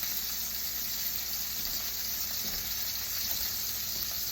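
A steak pan-frying sizzles in a hot pan with a steady, even hiss that holds unchanged throughout, fairly loud and without talk.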